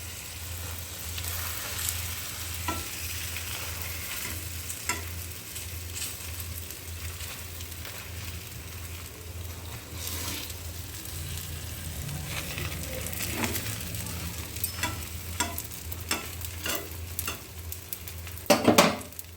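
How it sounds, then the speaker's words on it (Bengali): Gola ruti, a poured flour-batter flatbread, cooking in a pan with a low steady sizzle, punctuated by spatula scrapes and utensil clinks that grow busier and louder near the end; no talking. "আর একটা ভাজছি।"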